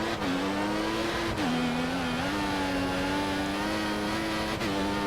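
A Formula 1 car's engine in the F1 2014 racing game at the Austrian Grand Prix holds a loud, steady high whine that dips briefly and climbs again under acceleration, running without a break and with no talk.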